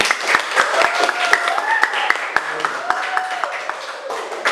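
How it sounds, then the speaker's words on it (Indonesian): Scattered classroom applause, with sharp individual claps spaced irregularly under a teacher's ongoing voice. "Silakan berikan tepuk tangan."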